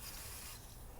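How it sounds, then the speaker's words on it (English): WD-40 sprayed onto the exhaust manifold nuts and threads of a 2016+ Mazda MX-5 Miata, a continuous close hissing spray lasting about a second. "Once again, spraying WD-40 on the nuts and the threads so it'll come out easy."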